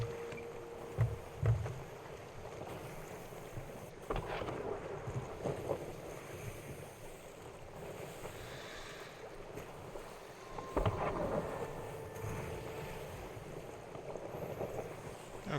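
Sailing ship gliding across open sea in Sea of Thieves, a steady wash of wind and water with occasional creaks and splashes, continuous and fairly quiet with no talk.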